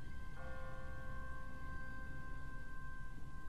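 A single church bell strikes once and its clear tone rings on and slowly decays over a low ambient rumble in The Walking Dead video game.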